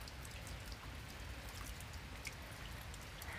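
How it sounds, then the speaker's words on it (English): Rain falling outdoors after a muddy spell, a soft, steady patter of drops on surfaces, faint and even throughout with no voices. "It's raining."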